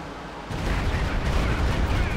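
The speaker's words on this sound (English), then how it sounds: "Stukas was setting up here for another barrage by the looks of it." Stuka rocket artillery barrage in the Company of Heroes 2 video game, heard as a loud, continuous rumble of dense overlapping blasts that swells after a brief quieter start and holds steady to the end.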